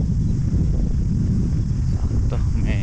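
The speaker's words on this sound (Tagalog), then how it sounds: "mahangin na may kasamang lamig." Cold wind blowing outdoors in New Zealand, a steady rushing buffet close on the microphone across the whole short stretch, with no voices over it.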